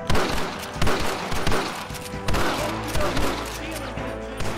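Rapid gunfire from a shootout with snipers in a window in the video game Red Dead Redemption, loud bursts of repeated shots in quick succession, with game sounds beneath and a voice speaking briefly.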